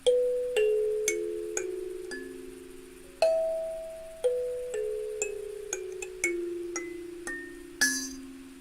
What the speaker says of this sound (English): So this is my little kalimba.